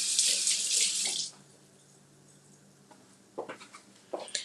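Tap water runs loudly into a kitchen sink for about a second as cilantro is rinsed, then cuts off, followed by quiet and a few soft handling clatters.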